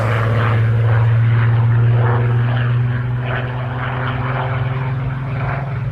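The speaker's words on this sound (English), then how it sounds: "So Spitfire Mark 19 631," A Spitfire Mark 19 flies at an air show, its piston engine a loud, steady, deep propeller drone that holds for several seconds and eases slightly toward the end.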